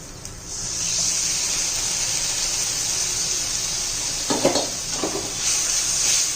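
Quiet hiss rises as dal cooking water is poured into hot oil, followed by a few sharp bursts of sputtering and bubbling near the end.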